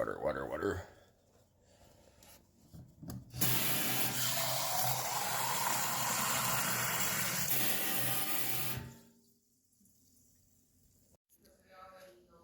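Water pours steadily into a cup for several seconds with a bright, splashing rush, starting and stopping abruptly, with quiet handling sounds before and after.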